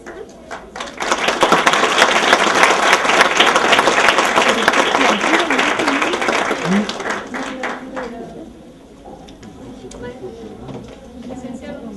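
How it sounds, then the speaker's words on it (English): Audience applause at the closing plenary of an academic language-teaching conference, loud and dense for several seconds before tapering off, with voices speaking as it fades. "please give another applause for all the organization and the participants"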